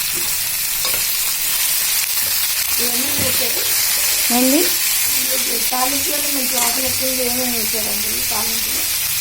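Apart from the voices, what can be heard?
spices sizzling in hot oil tempering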